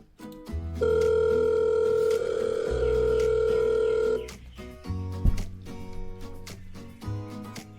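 An outgoing phone call placed to an inbound IVR line for LeadPerfection, a steady dial or ringback tone holding for a few seconds, then breaking into shorter tones and line clicks, with no voices.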